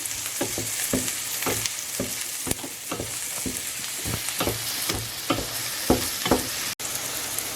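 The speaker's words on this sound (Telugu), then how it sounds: "వేసుకొని ఉల్లిపాయలు మగ్గించుకోవాలి" Onions and green chillies frying in a pan for mutton keema curry, a steady close sizzle broken by regular scraping stirs of a spatula against the pan, with no voices.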